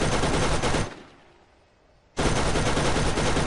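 Gunfire from the video game Borderlands comes as a loud, dense burst of rapid shots. It stops abruptly for about a second, then resumes at full strength.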